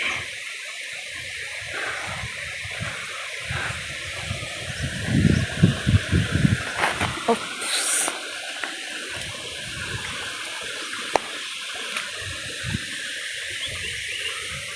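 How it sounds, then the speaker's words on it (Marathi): A waterfall's water rushes steadily in a constant broad roar, with some louder splashy bursts in the middle. "धबधबे"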